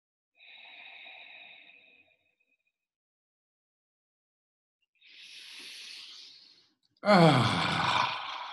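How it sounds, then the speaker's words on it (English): Deep, audible breaths taken together by a group seated on chairs: a soft inhale, a long pause of silence, then a gentle breath and a final loud, forceful exhale close to the microphone. "take a few breaths together, a few deep breaths"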